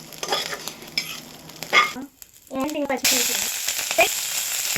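Eggs fry in a pan for egg fried rice, a broadband sizzle with stirring and utensil scrapes, briefly dropping out mid-clip before a louder, denser hiss returns.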